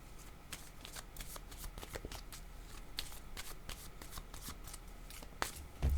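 Tarot cards are shuffled close up in steady, rapid riffling bursts of soft papery flicks and taps, quiet and continuous with no talking, ending in a brief louder thump.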